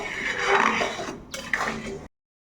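A spoon stirs vegetarian banana-stem lentil dal in a metal pot, making close clinks and scraping against the pot for about two seconds before cutting off abruptly.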